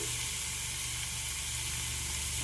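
Two broken chillies fry with onion in hot oil in a pan, producing a steady, even sizzle and hiss with no other sounds.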